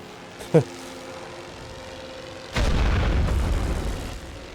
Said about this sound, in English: We can just go for this huge explosion now while we can.